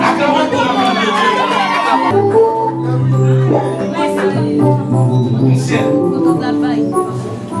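A wedding congregation at a religious ceremony bursts into acclaim and cheers, a loud mass of voices at first that settles into a busy, sustained crowd murmur.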